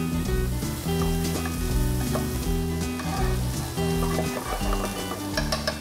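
Twenty grams of butter sizzling in a hot pan, a steady close frying hiss that runs the whole time over low, chord-like background music.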